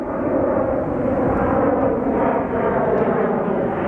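A SkyWest airliner passes high over Sky Harbor Airport in Phoenix, its engines a steady, broad roar that holds level throughout without fading in or out.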